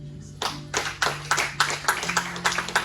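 A congregation claps along at a French-language church sermon, giving a run of roughly rhythmic, fairly close hand claps with a faint steady tone beneath.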